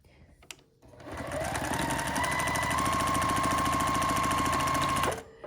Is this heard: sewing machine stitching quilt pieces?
yes